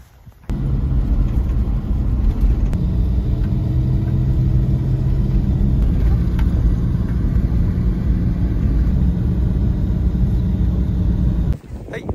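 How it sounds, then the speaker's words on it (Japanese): A car drives along the Venus Line mountain road near Lake Shirakaba on the Utsukushigahara plateau in Japan, with a steady interior engine and road rumble that begins abruptly and holds constant throughout before cutting off near the end. "今ですね、ヴィーナスラインをドライブし始めたところなんですが"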